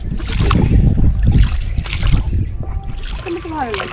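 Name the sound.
rowing boat moving on the Ichamati river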